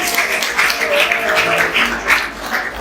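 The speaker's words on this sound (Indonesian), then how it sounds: "Tepuk tangan semuanya" Audience applause at a business talk event, a dense wash of many hands clapping steadily for the full stretch, loud and close with no speech over it.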